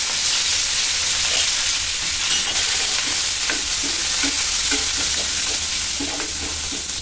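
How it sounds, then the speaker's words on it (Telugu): Mustard seeds, cumin, dried chillies and curry leaves fry in hot oil for a tempering, a steady loud sizzle with scattered small pops and crackles throughout. "పచ్చడిలోకి పోపు పెట్టుకోవడానికి ఆయిల్ వేడి చేసి అందులో ఆవాలు, జీలకర్ర, ఎండుమిరపకాయలు,"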